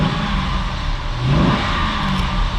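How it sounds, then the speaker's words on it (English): A 2006 Chevrolet Corvette C6 with an LS2 V8, previously flood-damaged, idles in drive with a loud, steady low engine rumble, close by, swelling slightly midway without any talking. "LS2 is running great."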